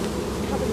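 Honey bees buzz at an open hive during spring inspection, a dense close droning hum that stays steady and fills the short moment alone.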